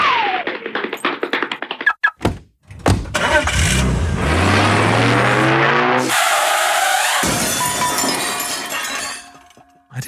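A comedic car sound effect: clinks and clatter, then an engine cranks into a loud, sustained roar with rising tones before cutting off abruptly.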